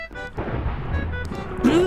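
An explosion in a Minecraft game: a broad, rumbling blast fills the clip and rolls on under game noise, ending in a rising tonal sweep.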